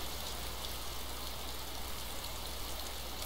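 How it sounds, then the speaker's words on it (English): Rain in the survival game DayZ makes a steady, even hiss of broadband noise that holds at a constant level from start to end, with no voices over it. "It's raining."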